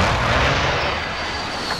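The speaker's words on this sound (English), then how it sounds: "Axel, send the strike" An air strike in Call of Duty: Modern Warfare sets off a loud, sustained explosive roar that fades slightly over nearly two seconds.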